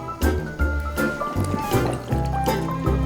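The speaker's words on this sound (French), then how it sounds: "je vais remplir mon seau directement, ça va aller plus vite" Water pours straight into a bucket, making a close, continuous gurgling and sloshing fill sound with small splashes throughout.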